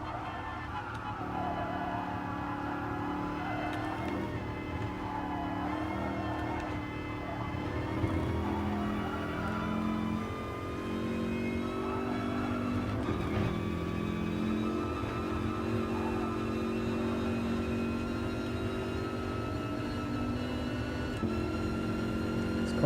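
Racing car engine in a racing video game, a continuous mid-level whine and drone with pitch lines sliding up and down through gear changes and corners, heard fairly quietly throughout.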